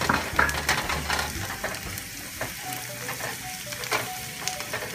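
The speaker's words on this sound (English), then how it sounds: "these onions are cooking just beautifully. I'm gonna add the cherries to this." Onions and tart cherries sizzling in a pan, a steady close crackle with occasional stirring scrapes, no talking over it.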